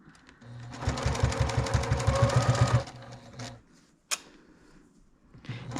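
Sewing machine stitching a project bag runs in a fast, steady burst for about three seconds, close and loud, then stops. A brief sharp click follows, with quiet handling noise afterward.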